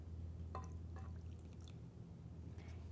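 Quarter cup of water poured into a 2-quart saucepan with sugar for caramel, faint trickling and dripping with a low background hum underneath.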